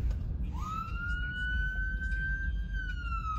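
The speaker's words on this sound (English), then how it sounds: "There's an ambulance." An ambulance siren, a single rising wail that holds a steady high tone, sounding at moderate distance over low background rumble, as if heard from inside a car.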